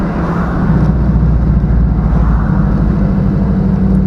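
An LS-swapped GMC Sonoma pickup, pop started and still cold, runs while driving, its engine a steady low rumble and drone heard from inside the cab with no voices.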